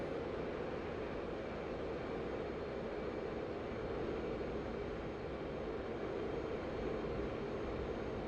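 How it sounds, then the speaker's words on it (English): Steady broadband roar of an F/A-18 Hornet jet engine at full afterburner inside the DCS flight simulator game during a dogfight, continuous and unchanging throughout. "we keep the afterburner on"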